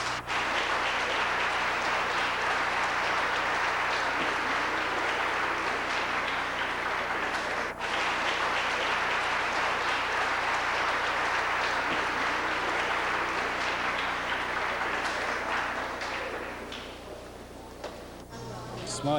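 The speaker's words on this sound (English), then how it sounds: "Can we have a nice round of applause for all of them," A crowd gives a long round of applause for a group of performers, a thick wash of steady clapping that carries on evenly before thinning out near the end.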